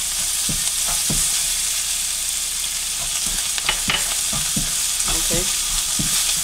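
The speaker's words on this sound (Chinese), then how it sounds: "下两个要放孜然，把孜然先炒响。" Cumin seeds sizzle and fry in a hot wok with hot peppers, a steady crackle broken by repeated scraping stirs of a spatula, close and continuous.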